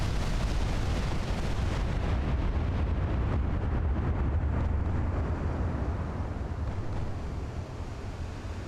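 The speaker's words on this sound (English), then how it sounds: "There is something shooting at enemy battleships" Heavy warship guns firing at enemy battleships in a 1930 Anglo-American naval battle in Ultimate Admiral: Dreadnoughts, a dense continuous rumble of booming salvos and blasts with wind-like roar, loud and steady throughout.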